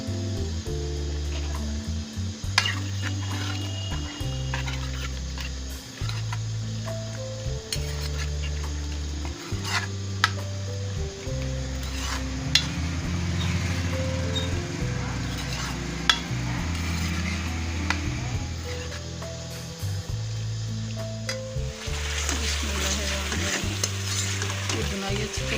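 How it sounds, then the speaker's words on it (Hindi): Chicken gizzards fry in a hot masala, sizzling continuously while a utensil stirs and scrapes the pan in a regular rhythm, with occasional metallic clinks and a brighter hiss near the end. "मुर्गी के पोटे शामिल कर रही हूँ।"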